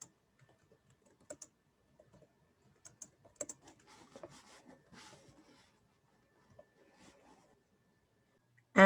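Quiet, scattered keystrokes on a computer keyboard come in irregular short clusters with gaps between them, and a brief louder sound cuts in at the very end.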